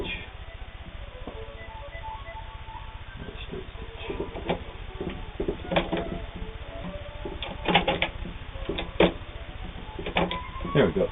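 A Vogue sewing machine runs a short-length straight stitch, its needle mechanism ticking in a fast, even mechanical rhythm with brief irregular clacks layered over it, close by and steady throughout.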